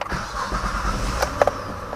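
A Honda Odyssey minivan's engine starts with a short cranking whir that catches into a steady idle, heard close up with a few small clicks and no talking.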